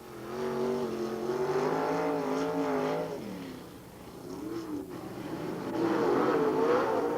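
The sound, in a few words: race cars in a four-car dash at Limaland Speedway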